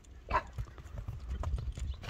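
A large dark bay horse trots with hooves clip-clopping in a quick, uneven rhythm, moderately near and fairly soft against quiet outdoor background.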